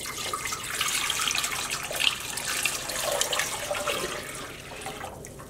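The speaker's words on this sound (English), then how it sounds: "I've just added our 8 cups of water with the 1 tablespoon of vinegar" Water poured into a dye pot with vinegar for dyeing a hand-wound ball of yarn, a steady close splashing pour that runs for several seconds with no talking.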